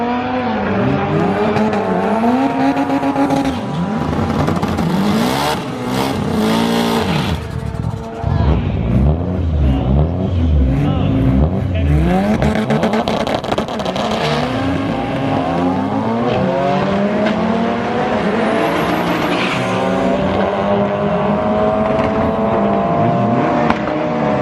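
An EK Honda Civic makes a drag racing run at Bandimere Speedway, its engine loud and close, revving high through repeated rising gear pulls with a sustained racing roar.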